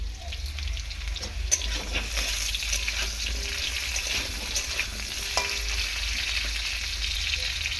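Potatoes frying in a pan for a vegetable dish with drumsticks and pumpkin, giving a soft, steady sizzle with occasional stirring clinks, moderately faint and close.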